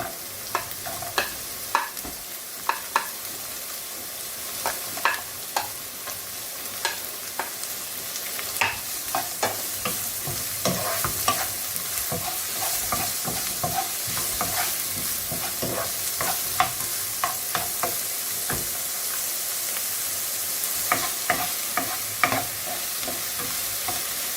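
Onion fries in a pan with a continuous close sizzle, dotted with frequent crackles and stirring clicks throughout, steady in loudness and with no voices.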